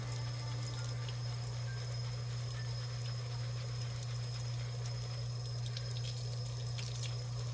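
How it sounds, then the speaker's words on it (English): Tap water runs steadily and continuously, close by, with a constant low hum underneath and no voices, while makeup brushes and beauty sponges are rinsed clean. "And you can just run it under the water like this until the water starts to run clear."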